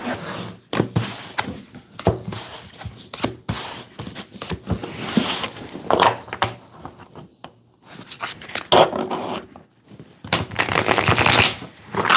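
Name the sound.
shuffling tarot cards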